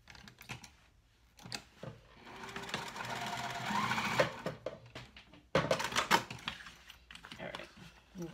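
Sewing machine running stay stitches on a cork bag: a close, rapid mechanical chatter in several runs, the longest steady stretch midway, broken by short pauses and small clicks.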